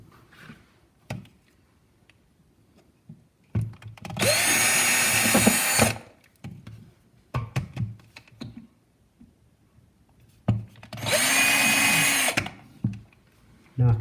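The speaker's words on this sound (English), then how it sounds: "I can drill those." A power drill bores holes for under-cupboard light brackets in a kitchen: two loud, sustained whirring bursts of about two seconds each, separated by quieter handling clicks and a person talking.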